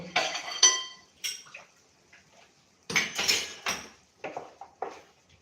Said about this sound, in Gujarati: એકદમ સરસ મિક્સ કરી લઈએ